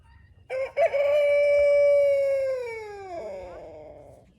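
A rooster on a homestead farm crows once, loud and near: a short opening note, then a long sustained harmonic call that slides downward and trails off, with no talking.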